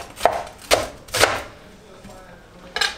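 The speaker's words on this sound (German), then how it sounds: "Und jetzt schneiden wir uns schön ein bisschen" A knife chops leek on a cutting board in four distinct, sharp strikes, three close together and a fourth after a pause, with quiet kitchen room tone between them.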